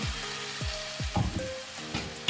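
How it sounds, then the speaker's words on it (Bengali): Spices frying in a pan with a little hot water added, a close, steady sizzle broken by a few scraping stir strokes. "মশলাগুলোকে ফ্রাই করব তার জন্য অল্প গরম জল করে নিয়েছি যাতে মশলাগুলো না জ্বলে যায়"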